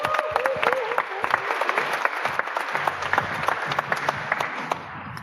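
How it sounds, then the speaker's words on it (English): Audience applause at a conference closing and prize-giving ceremony, dense clapping with sharp individual claps standing out, steady for several seconds before thinning slightly at the end. "Round of applause for Jonathan, guys."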